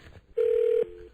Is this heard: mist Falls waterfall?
no